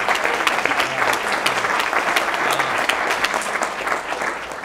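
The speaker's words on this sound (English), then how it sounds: "Give her a round of applause." Sustained round of clapping from a crowd at a labor union forum on police accountability, dense and steady from start to finish in a room.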